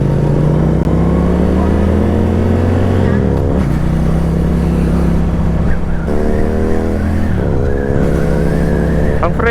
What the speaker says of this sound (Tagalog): tinitest drive ng kapatid ko yung SRK 400